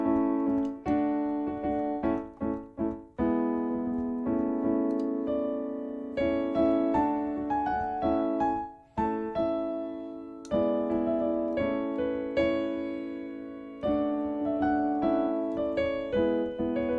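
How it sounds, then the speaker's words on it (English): A chord progression harmonized with octave notes plays as sustained, steady chords that shift every second or so, moderately loud and with no talking. "And so what you're hearing is that chord progression."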